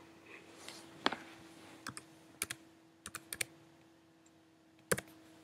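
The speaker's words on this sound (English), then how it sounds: "Sorry if you can hear typing." Computer keyboard typing in a quiet room: scattered sharp key clicks, single strokes and short bursts with gaps between, fairly close but soft, no talk.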